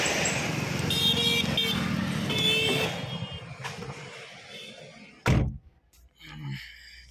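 A car pulls away, its engine and road noise loud at first, then fading over a few seconds, followed by a sharp thud and quiet.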